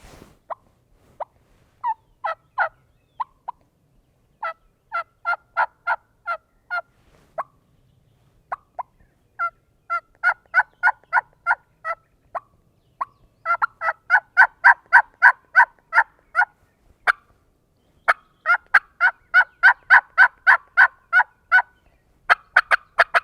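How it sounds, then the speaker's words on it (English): A wild turkey gobbles again and again in rapid bursts, answering hunter's yelping calls, loud and clear with no talk over it. "If he's gobbling at plain yelping and muted stuff, then I would just keep it at that level."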